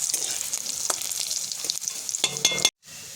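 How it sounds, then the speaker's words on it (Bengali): Garlic and dried red chillies fry in mustard oil in a kadai while being stirred, with a bright continuous sizzle, scraping stir strokes close by, a louder burst near the end, then a sudden brief cutoff. "নাড়াচাড়া করে নিচ্ছি রসুনটা একটু।"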